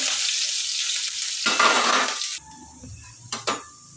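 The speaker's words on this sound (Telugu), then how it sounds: "పెసరపప్పు ఇలా వేగింది" Moong dal frying in a pan gives a steady, bright sizzle that swells and then drops away abruptly. Quieter clinks and a couple of scraping knocks follow, and no one speaks.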